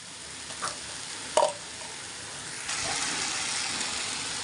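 Wild vegetables (kavla, jungle greens) sautéing in a pan make a steady hiss that swells in the second half, with a sharp clink of a utensil early on and no talking.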